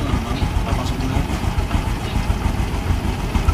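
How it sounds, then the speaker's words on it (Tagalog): A Honda XRM 125 motorcycle engine running at a steady idle nearby, a continuous low, rough putter with no revving. "So pagka ganun, i-start na kada motor."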